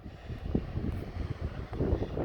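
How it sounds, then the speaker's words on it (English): Wind blowing hard along the coast at Carboneras, Almeria, near a beach, a steady low rumbling buffet with gusty swells, including a stronger push near the end. "it's just too windy"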